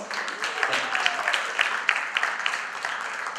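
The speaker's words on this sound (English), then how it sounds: "big round of applause" Applause from a crowd at a Taj reunion event as a chef is introduced, steady clapping with a murmur of voices mixed in, moderately loud and continuous throughout.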